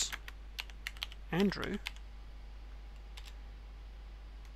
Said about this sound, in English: If I type sudo groups